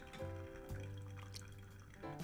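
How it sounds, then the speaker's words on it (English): Pour-over coffee drips steadily through ground beans from a gooseneck pour, a soft continuous trickle with faint splashes running the whole time alongside a low steady tone. "So I have this, and we're just going to let this drip down."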